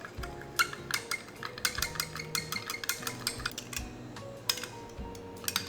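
Small tapping and scraping clicks of fishing bait color with silver glitter being mixed in a container, a quiet, irregular run of ticks throughout, no voices.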